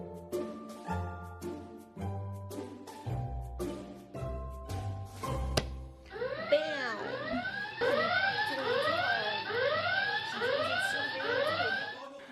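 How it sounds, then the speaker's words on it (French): The secrets alarm from the reality show Secret Story goes off, a loud repeating series of rising electronic sweeps that keeps going after some earlier tonal sounds. "pourquoi as-tu déclenché l'alarme des secrets?"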